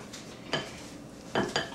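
Brownie batter mix is stirred by hand in a bowl, with a few distinct scraping clinks of the utensil against the bowl spaced across a quiet background.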